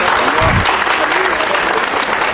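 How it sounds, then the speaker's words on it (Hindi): An audience at a film festival event applauds with dense, loud clapping that holds steady for the whole moment. "इनके लिए बहुत सारी तालियां।"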